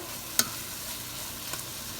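Soft, steady sizzle of spice powders, turmeric and salt frying in a pan for a Sri Lankan drumstick and prawn curry, fairly quiet, with a couple of light clicks and no voices.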